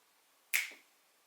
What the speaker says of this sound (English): I'm going to go ahead and snap my fingers